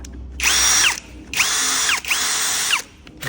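Cordless screwdriver drill run in three short bursts, each a loud whine that ramps up, holds at speed and winds down, with brief pauses between and no talking.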